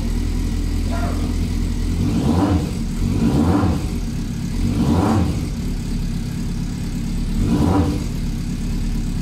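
A freshly tuned engine, started cold in a garage, idles with a steady low hum broken by four or five short revving swells that rise and fall a second or two apart.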